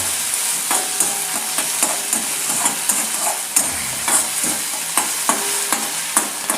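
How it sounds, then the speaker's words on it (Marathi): Finely chopped onion sautés in a hot pan until pink, with a steady close sizzle and a regular rhythm of spatula scrapes and stirs throughout and no talking. "कांदा छान मस्त गुलाबी रंगावर परतून घ्यायचा"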